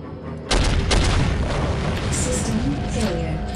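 Heavy gunshots in the game Soldier of Fortune, a loud booming blast followed by rumbling echoes and a few further reports, with a voice talking partly over them.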